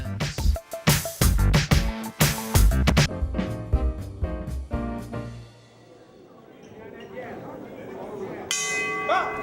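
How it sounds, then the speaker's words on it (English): A boxing ring bell at a gym boxing event clangs loudly several times in quick succession, its ringing tones hanging and fading before crowd noise and a later ring take over. "The bell just rang"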